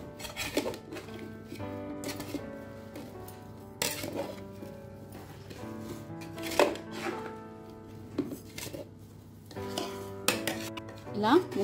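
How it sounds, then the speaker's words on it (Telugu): Mango pieces for Andhra avakaya pickle being tossed with spice powders in a large batch, giving repeated soft clinks and scraping knocks against a bowl amid a steady low hum, with bursts of handling noise. "ఇలా మిక్స్ చేసుకున్న పొడులను మనం మామిడికాయ ముక్కల మీద వేసుకుందాము. ఇలాగా ముక్కల మీద మొత్తం వేసుకొని కలుపుకోవాలి."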